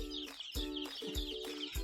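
Repeated high-pitched chirps and peeping calls from newly arrived broiler chicks, coming in quick bursts over a steady close background.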